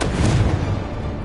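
Incendio fire spell cast in a Harry Potter video game: a brief, loud whooshing burst with a low booming body that fades quickly, heard alone without talk.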